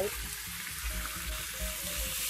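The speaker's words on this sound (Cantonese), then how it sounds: "俾半罐嘅啤酒" Chicken sizzling in a pan after half a can of beer is poured in for a beer chicken casserole, a brief steady hiss with light stirring scrapes.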